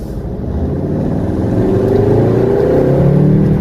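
Turbocharged 2014 Volkswagen Golf 7 R accelerating hard, a loud, close engine roar climbing steadily in pitch through the gears without a break, heard from inside the car.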